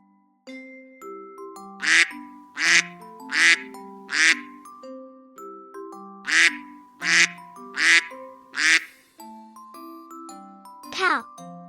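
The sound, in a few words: duck quacking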